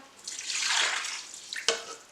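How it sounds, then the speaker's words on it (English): 200 millilitres of water pours into a bowl with yeast for ciabatta dough in a short, soft splashing stream that swells and fades, followed by a brief drip or splash. "Then adding up 200 millilitres of water."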